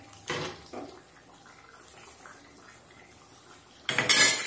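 A metal lid clanks onto a pot of chicken curry gravy in a home kitchen, with a couple of light utensil knocks earlier and a loud, sharp rattling clatter at the end.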